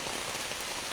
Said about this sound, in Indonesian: Semakin lama semakin syahdu ini hujannya.